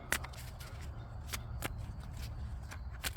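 Tarot cards shuffled by hand during a reading: a series of crisp, separate riffling snaps at an uneven pace, close but quiet, with no voices.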